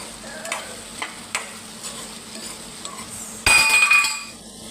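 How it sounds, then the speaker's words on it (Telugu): Okra fries with turmeric in a pan: a few faint scrapes and clinks come first, then a sudden loud burst of close sizzling that fades slightly as the pieces are stirred. "పసుపు వేసుకొని ఇప్పుడు బెండకాయలు వేసుకుందాం"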